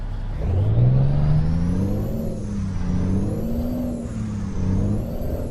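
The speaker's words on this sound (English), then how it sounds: "Oh yeah, listen to that purr." Cummins engine of a Kenworth W900 in American Truck Simulator, purring with a deep steady idle that rises and falls gently in pitch, close and continuous throughout.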